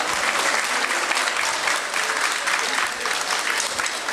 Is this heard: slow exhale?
no